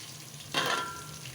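Green masala of mint, ginger, garlic and green chilies dropped into translucent onions in a pan for veg pulao, a sudden close sizzle bursting up and then settling into a steady fry.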